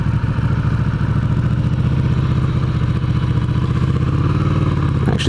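A Ducati Scrambler motorcycle ridden slowly through a car park, its engine a steady, loud, throbbing mid-pitched chug with even rhythm and light clatter, close to the listener, ending with a brief sharp noise.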